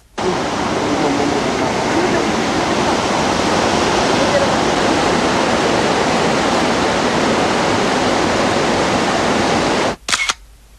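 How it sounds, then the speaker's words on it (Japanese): Kegon Falls waterfall in Japan roars as a loud, steady broadband rush of falling water, continuous for about ten seconds before cutting off abruptly, followed by a brief burst. "去年私たちも見に行きましたよ、この華厳の滝。"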